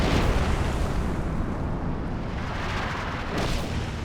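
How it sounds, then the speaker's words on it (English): An artillery concentration barrage thunders in Company of Heroes 2, a dense, continuous roar of overlapping blasts and rumble that stays loud and unbroken throughout, with no talk over it. "he's calling in a concentration barrage on this region as well now"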